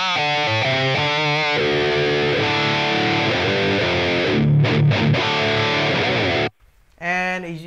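High gain electric guitar played through a Line 6 HX Stomp on the Revv Gen Purple amp model with a 4x12 V30 cabinet: heavily distorted rhythm chords and chugs, loud and close, ending in a brief stop before another chord.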